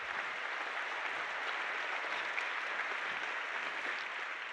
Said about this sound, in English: Another round of applause for the engineers and the creative artists at NVIDIA.